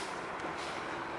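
A truck rumbles along a street, a broad steady roar of engine and road noise at moderate distance, with no voices.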